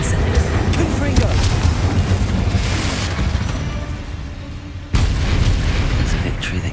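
A Confringo blasting spell explodes in Hogwarts Legacy, a loud booming blast that rolls on over dense battle noise, with a second sharp burst near the end.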